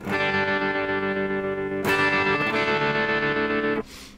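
Sustained electric guitar chord through a Fender Twin Reverb amp with the vibrato switched on, a loud, rich tone with a pulsing wobble, then a second strum that rings out and cuts off near the end.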